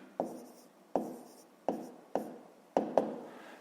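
Handwriting on paper while working a fifth-grade math exercise, six close, distinct pen strokes or taps, each trailing off into a faint scratch, in a quiet room with no speech.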